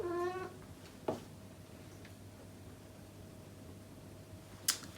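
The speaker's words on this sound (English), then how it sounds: "My cat woke up and he wants to walk in front of the camera." A cat gives a short meow near the start, close to the microphone, followed by faint rustling movement and a few soft taps over a steady fan-like hum.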